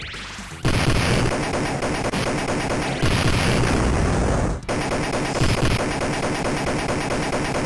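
Relentless video-game gunfire from the Judge Dredd arcade game, loud, sustained bursts of shots and blasts over a driving arcade soundtrack, broken by two brief dips.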